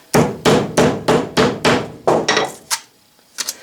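Small sheet metal hole punches tapped flat with a hammer in a machine shop: about eight sharp, evenly spaced metallic knocks, close and loud, then a pause and a couple of lighter taps.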